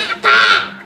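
A voices an imitation of a koel bird call: one sustained, tonal, bird-like cry that swells in loudness and holds briefly before fading.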